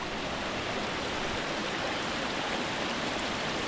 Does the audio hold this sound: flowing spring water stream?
yes